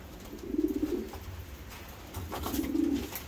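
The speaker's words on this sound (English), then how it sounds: "I really think this is one confused pigeon" Pigeon cooing in two soft, low bursts, one early and one near the end, fairly close with a quiet gap between.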